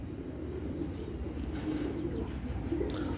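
A golden pigeon coos in soft, low repeated calls, close by over a steady background hum.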